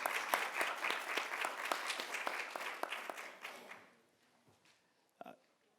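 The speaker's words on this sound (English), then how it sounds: "give them a round of applause" An audience at a city meeting applauds with a moderate, steady clatter for several seconds, then the clapping dies away into near silence with a faint late tap.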